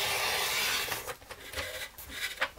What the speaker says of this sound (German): Also ich schneide mir da vielleicht 1 mm oder so ab.